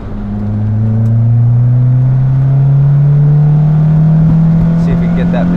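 A Lotus Elise engine revs steadily upward toward about 7,500 rpm, its loud droning note climbing smoothly in pitch from inside the car during a test drive.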